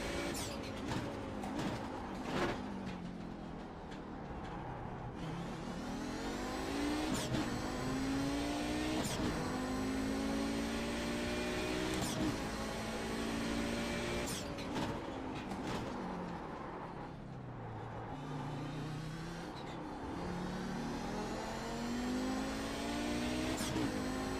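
Audi 90 GTO race car lapping Zolder circuit, heard from onboard as a loud, continuous engine roar that climbs and falls through repeated upshifts and downshifts, with sharp shift cracks and no voices.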